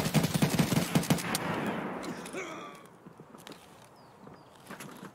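Gunfire in the video game Escape From Tarkov: a rapid, evenly spaced burst of loud automatic shots, then quieter scattered movement and footstep sounds.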